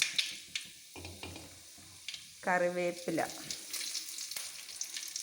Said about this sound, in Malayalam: ചീനിച്ചട്ടി അടുപ്പ് വെച്ച് വെളിച്ചെണ്ണ ഒഴിച്ച് കടുക് പൊട്ടുന്നു